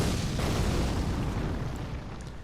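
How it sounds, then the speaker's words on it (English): Giant's Flame Take Thee fire spell in Elden Ring: a loud, sustained roaring burst of flame with heavy low rumble, fading slightly over a couple of seconds, no voices. "Giant's Flame Take Thee. It's the ultimate Flame Sling."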